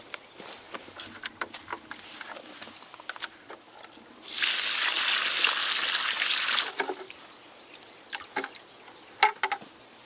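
Water sloshes and splashes steadily in a bucket for a few seconds in the middle, surrounded by scattered clanks, taps and footsteps nearby while fence posts are set for a chicken run.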